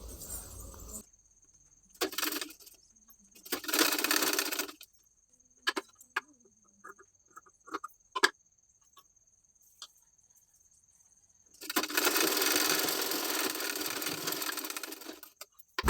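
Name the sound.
sewing machine stitching hook strip on blouse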